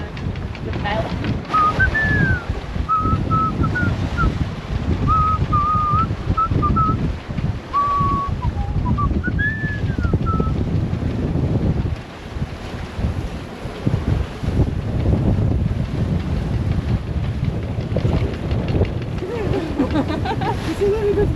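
Strong wind roaring steadily across a sailboat deck in big waves on a rough passage into Indonesia, with a whistling tone early on and heavy broadband gusts and surges throughout.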